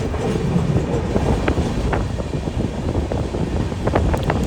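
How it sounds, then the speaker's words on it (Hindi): The Sachkhand Express, a Hazur Sahib Nanded to Amritsar train on the Bhopal–Jhansi–Mathura line, rumbles steadily along the tracks with a loud, continuous roar, occasional clicks of wheels over rail joints and wind buffeting the microphone. "ये देखिए ये है हमारी सचखंड एक्सप्रेस, हुजूर साहिब नांदेड़ अमृतसर सचखंड एक्सप्रेस, जो कि आ रही है भोपाल झांसी मथुरा वाली लाइन से"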